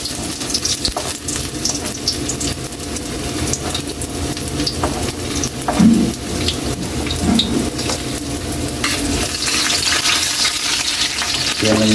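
Ginger fries in hot cooking oil for octopus adobo, a continuous moderately loud sizzle and crackle with a few clinks and stirring scrapes around the middle, alone without talk.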